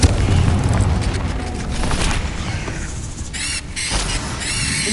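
Fiery Confringo spell blasting in Hogwarts Legacy, a loud rumbling explosion with crackling burst layered over sustained combat noise, followed by sharp squealing magical effects near the end.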